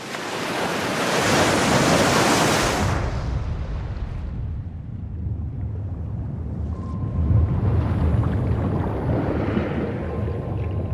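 Ocean waves crash loudly in a roaring burst of surf, then ease into a steady, rumbling wash of water with wind noise, and no one speaks.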